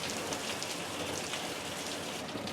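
Steady downpour drums and hisses on nearby surfaces, constant and fairly loud, with no talking.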